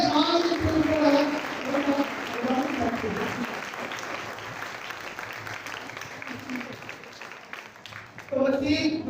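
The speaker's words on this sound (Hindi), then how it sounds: "आज हम जो है भरपूर तालियों में अपनी माँ को" A church congregation applauds for mothers on Mother's Day, with moderate clapping running under a speaker's voice that comes and goes at the start and end.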